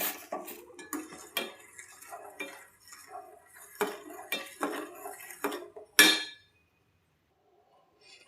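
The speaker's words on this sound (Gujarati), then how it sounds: "એકદમ ઘાટું થઈ જાય ત્યાં સુધી આપણે હલાવતું જ રહેવાનું છે" A metal spoon stirs milk in a pot for chikoo dry-fruit kulfi, giving irregular scraping clinks against the pan that build to one loud clank and then stop, leaving near silence.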